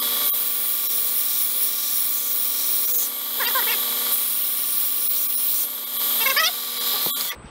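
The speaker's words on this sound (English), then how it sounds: "I'm going to come in and just do one side to thin out a little bit here on the belt" A belt grinder whines steadily and loudly at close range while one side of a knife blade is thinned. The pitch shifts briefly twice as the steel is pressed to the belt, and the whine cuts off near the end.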